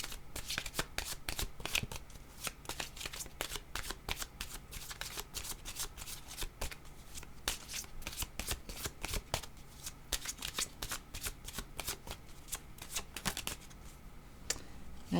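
Tarot cards are shuffled continuously, with a rapid, steady patter of riffling and slapping cards that stays close and dense throughout.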